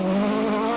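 A rally car at speed through a water splash on a South African rally stage, its engine note steady and loud, with a continuous rushing wash of spray over a brief stretch.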